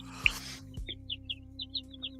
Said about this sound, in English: all the little birds chirping in the background